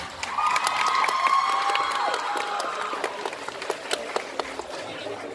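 Audience at a cosplay contest in Nantes claps and cheers for a departing contestant, an initial burst of shouts and whoops over dense applause that thins into scattered claps toward the end.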